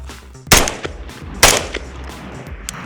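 A rifle firing 5.56 rounds at a thrown flying target outdoors: two loud, sharp shots about a second apart, each with a ringing echo tail and fainter clatter afterward.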